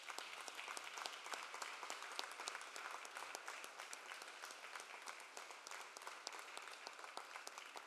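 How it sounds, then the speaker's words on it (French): Applause from the audience at a Shawinigan city council session, a steady, even patter of many hands clapping that holds throughout, fairly distant and alone with no talk. "je vous invite à l'applaudir"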